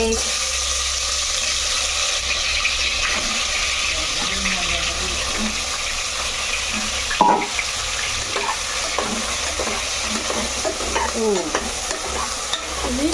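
Masala-stuffed baby eggplants sizzle and crackle in hot oil in a pan, a steady loud frying hiss with stirring scrapes and one sharper knock, while a person talks now and then.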